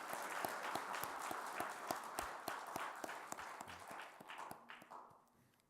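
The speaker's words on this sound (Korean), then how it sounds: "우리 다 같이 감사의 박수 한번 드리겠습니다." A church congregation applauds together during a revival evening service, dense steady clapping from many hands that thins and fades toward the end.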